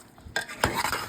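Potato wedges being tossed with Parmesan cheese in a bowl, a couple of close scraping, rustling mixing strokes after a quiet start.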